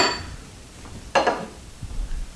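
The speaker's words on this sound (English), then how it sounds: "you're just going to give your chicken a good little whack there" A single sharp metallic whack of a frying pan striking a raw chicken, with a faint clink of kitchenware before it and a duller knock afterward.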